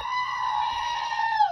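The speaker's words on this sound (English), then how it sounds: "you get a special upside down goat scream." A goat screams in one loud, sustained, strained bleat that holds steady for about a second and a half before breaking off at the end, close and alone.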